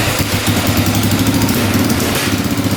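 A secondhand quad bike's engine runs loud and close with an uneven, lumpy rough note, sputtering and unsteady throughout.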